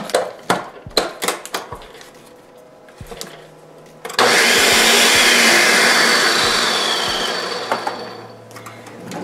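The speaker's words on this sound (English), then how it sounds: "Okay, so now I'm going to blend this." Blender whirring through a lemon Jello mixture, starting abruptly after a few knocks and clatters and running as a loud, steady drone for about five seconds before trailing off.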